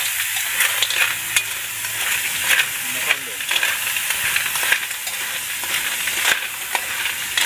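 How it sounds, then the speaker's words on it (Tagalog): Mud shells and oysters are sautéed in a pan with a continuous crackling sizzle and hiss. Scattered stirring clicks and scrapes sound close by throughout. "Gigisahin mo na mga koys."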